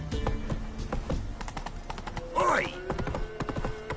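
Horse hooves clip-clop through a fantasy game world, a steady run of light knocks with a whinny partway through, set against other game sounds.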